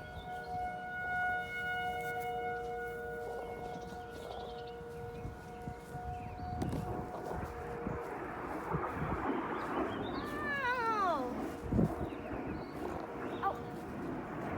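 Civil defense tornado warning sirens wail across Enid, Oklahoma, steady and distant at first, then rising and falling tones swell nearer, with faint voices and outdoor background noise.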